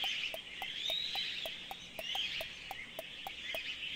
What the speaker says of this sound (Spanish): Ah, son pájaros, lo que suena.